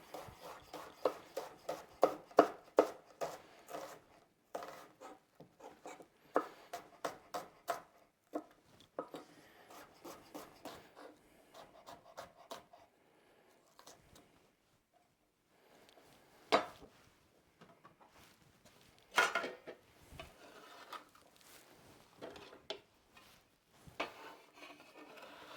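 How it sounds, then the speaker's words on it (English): Knife slicing a yellow and a red bell pepper into half rings on a board, a steady run of quick, close chopping taps that thin out into scattered cuts with pauses. "So I'm just going to cut them into half rings."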